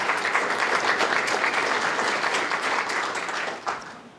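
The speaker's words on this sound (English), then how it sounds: "please give them a round of applause" An audience at an MIT Enterprise Forum Northwest event on 3D printing applauds the introduced panelists, giving a steady wash of clapping that eases slightly toward the end, with a few louder claps near the finish.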